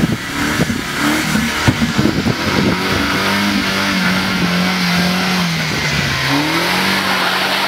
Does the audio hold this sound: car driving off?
yes